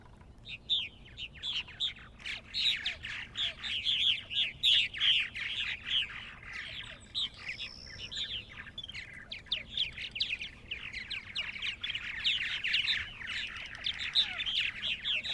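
A flock of purple martins chirps and chatters continuously in overlapping high, gurgling calls, busy and fairly close, with no voices.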